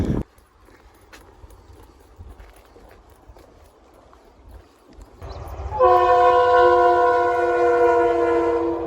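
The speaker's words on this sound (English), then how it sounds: "Train!" A train approaches with low rumbling and clacking, then its loud horn blares steadily as it passes nearby without stopping, at a railroad crossing on the Appalachian Trail.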